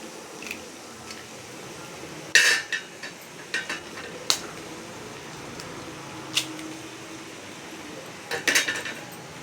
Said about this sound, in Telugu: ఇవన్నీ 4 eggs తీసుకొని కొట్టేసుకుంటున్నాను